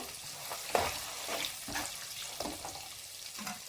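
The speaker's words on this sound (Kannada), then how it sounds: "ಒಂದು ಕಾಲು ಕಪ್ಪು ಸಾಸಿವೆ ಸೇರಿಸ್ತಾ ಇದ್ದೀನಿ ಹಾಗೆ ಇದಕ್ಕೆ ಸ್ವಲ್ಪ ಬಿಳಿ ಎಳ್ಳು" Black mustard seeds and white sesame seeds sizzle and crackle in hot oil while a temple-style puliyogare gojju tempering is being made, with a steady frying hiss and scattered soft pops close by and no talking.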